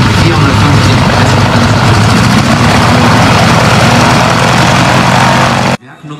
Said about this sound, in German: Die Bilder, das Schnurren von Motor, Sternmotor,